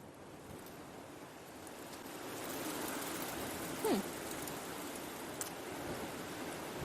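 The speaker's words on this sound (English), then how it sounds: "The wind is picking up here quite a bit" Wind gusting through trees and brush in the African bush, a steady broad rushing roar that swells slightly partway through, with a faint bird call cutting in briefly.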